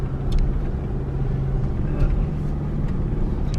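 Engine of a 2020 Audi Q3 driving slowly around a residential neighborhood, a steady low rumble heard from inside the car with faint road noise and no talking.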